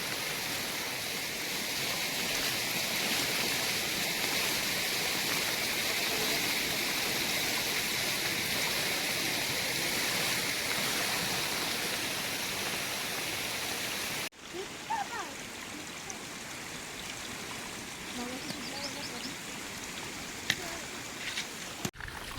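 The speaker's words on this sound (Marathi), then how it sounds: "पाऊस जोरात आहे." Heavy rain pours steadily near a hillside village in Konkan, a dense, even hiss that cuts off abruptly partway through and gives way to quieter patter with scattered drops.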